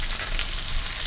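Vegetables for sambar sauté in a pan with a continuous, fairly loud close-up sizzle, brief and steady with no talking.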